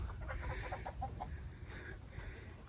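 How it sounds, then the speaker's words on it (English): Chickens loose in a farm yard cluck in a quick run of short calls, moderately close, over a low outdoor rumble, then quieter scattered clucks follow. "we've let the chickens out here in the yard"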